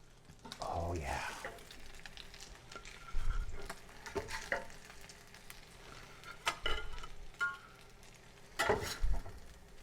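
Brisket grilled cheese sandwich cooking in a pan, giving a low steady sizzle with occasional scrapes and clatters, heard under intermittent talk.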